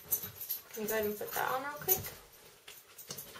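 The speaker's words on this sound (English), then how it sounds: "You can hear my dogs behind me." Pet dogs whimper and yip in the background of a room while a person talks in the foreground, their high, wavering cries brief and partly masked by the voice.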